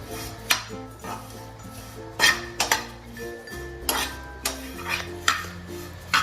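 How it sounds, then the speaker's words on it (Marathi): Grated coconut dry-roasted over low heat and spread around a pan, heard as intermittent metallic scrapes and clinks of a spoon against the pan over a low steady hum, with no voices. "खिसून घेतलं ते मंद आचेवर भाजून घेते सगळं इकडून सारखं भाजलं गेलं पाहिजे म्हणून असं पसरून घ्यायचं"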